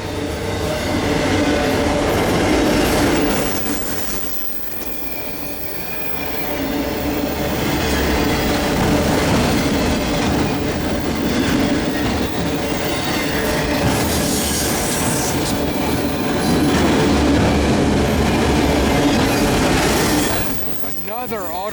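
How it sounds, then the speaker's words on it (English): An eastbound CN Rail mixed freight carrying auto racks rolls by at Ingersoll, Ontario, with loud continuous wheel rumble, rhythmic clickety-clack over rail joints and occasional squeals. A voice can be heard over the passing cars. "Another auto rack train."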